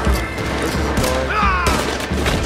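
Gunfire in the Red Dead Redemption 2 video game: a loud, dense burst of several shots and crashing impacts fills the short stretch, with a brief whistling tone partway through.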